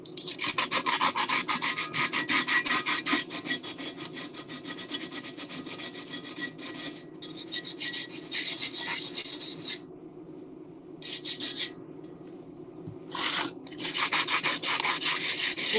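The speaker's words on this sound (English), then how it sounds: "I'm just taking off the rust" Rust is scrubbed off a summer-rusted cast-iron pan, harsh rhythmic rasping strokes in quick repeated bursts, close and loud, with brief pauses between scrubbing runs and no talking.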